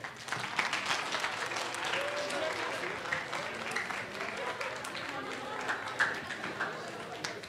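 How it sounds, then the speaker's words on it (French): An audience at a Halloween costume contest applauds costumed contestants with sustained, dense clapping, mixed with crowd noise and voices throughout. "j'aimerais ça qu'on les applaudisse"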